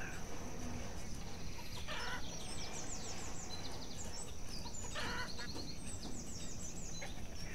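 Chickens cluck at a chicken breeder in the Banished video game, with scattered bird calls and clucks over a dense, continuous farmyard background.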